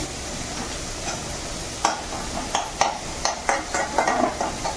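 Onion and leafy greens fry in a pan with a steady low sizzle. In the second half, a series of sharp spatula scrapes and clinks against the pan stand out. No voices are heard.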